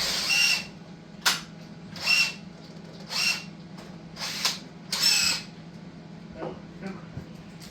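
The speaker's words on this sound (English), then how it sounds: "Do you need me to go get the other drill?" Power drill working on a Ferguson TEA20 tractor, running in short bursts of about half a second, around six spins with quiet gaps between them, close and fairly loud.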